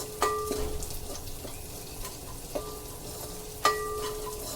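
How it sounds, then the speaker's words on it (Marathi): Spices with asafoetida frying gently in a pan on a low flame give a soft, steady sizzle, broken by a few sharp clinks and scrapes of a stirring spoon against the metal. "गॅसची फ्लेम लो आहे आणि लो फ्लेमवरच हे परतायचं आहे"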